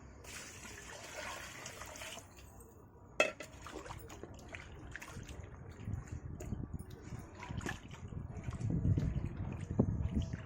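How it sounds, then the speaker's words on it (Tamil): Water pours and trickles into a metal pot of prawn biryani, with a sharp clink of cookware partway through and the splashing swelling louder toward the end. "இப்போ நம்ம தண்ணி சேர்த்துக்கலாம்"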